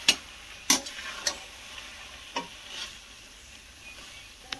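Khoya is stirred into carrot halwa in a pan, giving a few sharp clinks and scrapes of a spoon against the pan over a faint, quiet background, close and without talk.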